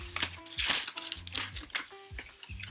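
Ultraviolet-sensitive beads are unwrapped from their packaging, giving close, busy crinkling and tearing of wrapping material in uneven bursts with short pauses, loud and continuous.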